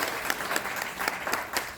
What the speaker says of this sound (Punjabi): ਤਾੜੀਆਂ ਮਾਰੋ